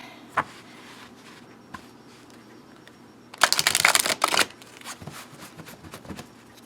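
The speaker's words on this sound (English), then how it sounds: "doing a rifle shuffle with all of the cards is a little bit difficult" Mary El tarot cards being riffle shuffled, a dense burst of crisp fluttering card clicks lasting about a second, with a few soft isolated taps and handling rustles before and after in a quiet room.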